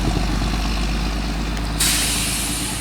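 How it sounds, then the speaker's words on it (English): A truck passes close by on a rural road, its rumbling engine droning steadily before a sharp burst of air-brake hiss cuts in and holds to the end. "There's a truck going by"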